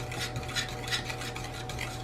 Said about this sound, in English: I'm stirring up the batter until it's smooth and thick.